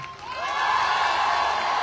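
An outdoor protest crowd at Place de la Concorde in Paris cheers and claps, a broad swelling roar of voices and whoops that rises within a second and holds steady, heard from within the gathering.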